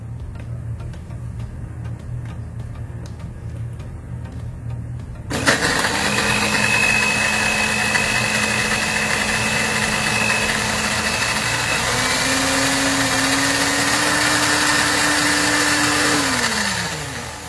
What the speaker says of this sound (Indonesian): Kita blender ya bro.